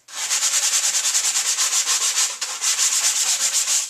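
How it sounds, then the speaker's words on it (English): A sanding sponge rubbed rapidly back and forth over a carved foam tombstone, a close, steady rhythmic scratching with about a dozen quick strokes and a brief pause partway through. "If you have grooves cut, you want to run the sanding sponge through it."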